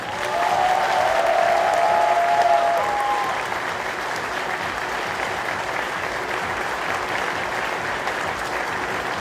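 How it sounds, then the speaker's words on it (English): Loud audience applause fills a hall after a puppet show at the Eurofurence convention, a dense steady roar of clapping that swells at first, then settles and carries on evenly to the end. "So a big round of applause for our puppet builder."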